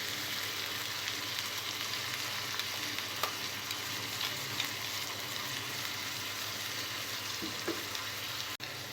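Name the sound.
onions and green chili paste frying in a pan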